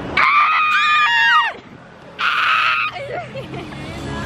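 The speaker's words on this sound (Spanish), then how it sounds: "¡Grita, grita! ¡Saca la furia!" A person on a sunny Barcelona street near the Sagrada Familia screams out their fury in two loud, sustained bursts separated by a pause, followed by quieter voices and street noise.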